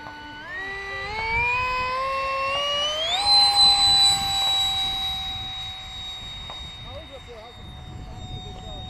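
Parkzone Zabu RC airplane on 5 cells taking off, its electric motor whine rising sharply in pitch then holding a high steady tone as it climbs away, with faint voices around.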